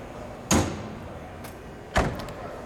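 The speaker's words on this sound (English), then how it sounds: "let's shut that door" Two solid door shuts on a 1939 Oldsmobile convertible, a sharp thump followed about a second and a half later by a second similar closing thud, both close and distinct.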